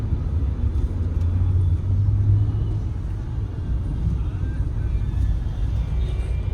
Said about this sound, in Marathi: तिथे पण ट्रॅफिक जाम झालंय.